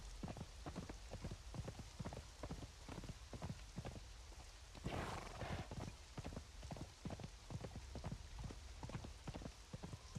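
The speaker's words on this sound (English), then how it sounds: "Of course it's raining. It's such a nice area, but it rains all the time." Steady rain hisses across the whole stretch in the Conan Exiles video game, joined by loud rhythmic horse hoofbeats clip-clopping close by.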